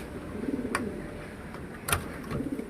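Pigeons cooing softly inside a coop, low murmuring calls repeating under a faint background hum, with a couple of brief sharp knocks.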